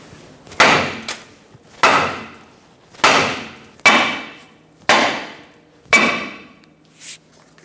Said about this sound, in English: let's use a hammer, tap on the axle here, and that's going to break the studs of the ball joints free